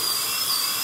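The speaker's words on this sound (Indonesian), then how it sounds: "Iya, suara bor. Kalau kita mau melubangi tembok atau kayu, pakai alat ini." A high, steady electric drill whine of the kind used to bore into walls or wood plays loudly and alone for under a second.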